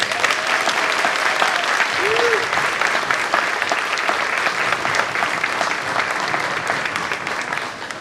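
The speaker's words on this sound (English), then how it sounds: "Let's give them another round of applause." Sustained audience applause fills a school auditorium after a band and orchestra concert piece, steady dense clapping throughout with a faint murmur of the crowd underneath.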